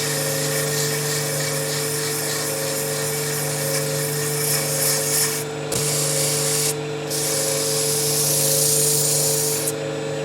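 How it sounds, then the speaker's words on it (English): Sandpaper rubs against a wooden goblet spinning on a lathe, a loud, continuous abrasive hiss over the steady hum of the motor, with a few brief pauses as the paper lifts off. "I think it's a good time to do some more sanding."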